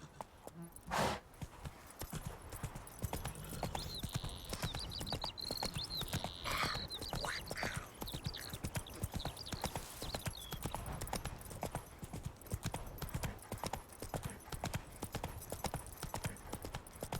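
Horse hooves clip-clopping at a steady galloping rhythm across a long stretch in The Witcher 3, with a brief whinny partway through over constant game ambience.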